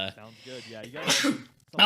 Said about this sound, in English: that was a sneeze and a half